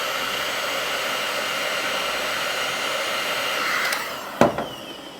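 A heat gun blows steadily and loudly while warming about ten centimeters of a black thermoplastic splint strip for a short resting hand splint, with a brief knock or handling sound near the end.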